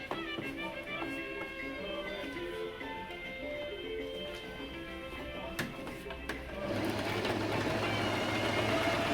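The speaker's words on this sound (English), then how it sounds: "Now I top stitch." A sewing machine top-stitches a facing joined to the front of a simple shift dress, running steadily at close range over background music, growing louder and busier in the final seconds.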